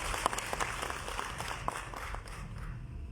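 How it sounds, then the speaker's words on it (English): Audience at an Easter prayer festival function applauding a guest, steady moderate clapping with a few sharper individual claps standing out, fairly distant in a large hall. "That's another round of applause for Mr."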